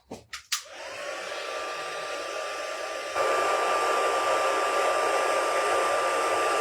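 A hair-dryer-like heat tool blows steadily while embossing a Christmas card, starting after a few clicks and growing louder partway through, a constant close whoosh with a faint whine.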